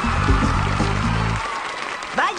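Applause from a television studio audience welcoming a talented performer onto a stage, a loud burst of clapping over low musical tones that cuts off abruptly, followed by a brief voice.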